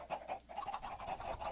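Chickens cluck in the video game Minecraft, a steady run of short, close, repeated clucks and squawks filling the whole moment with no talk over them.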